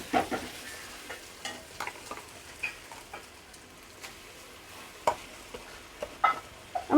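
Washed rice is stirred into pointed gourd in a pan, with repeated scrapes and knocks of a spatula against the metal over a quiet simmering sizzle, and the strokes grow louder near the end.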